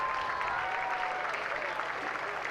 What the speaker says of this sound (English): A big round of applause for everyone who's competed today.